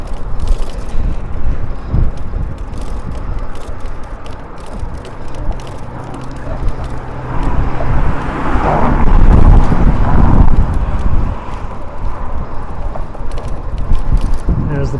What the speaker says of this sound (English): Now it's going to get windy because we got to go over this great bridge